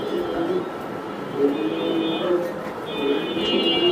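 Pigeons coo at a pigeon seller's loft, soft repeated low coos recurring in bursts against a faint steady background hum.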